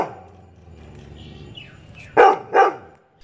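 A Labrador Retriever lets out two sharp, loud barks in quick succession after a quieter stretch of low background noise, the barks close and standing alone.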